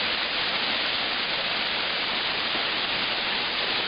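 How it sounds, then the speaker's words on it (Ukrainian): Manyava waterfall pours down from a drop of about 24 metres, making a steady, dense roar of falling water with no break, close and constant throughout. "до самої вищої точки, з якого вода падає вниз"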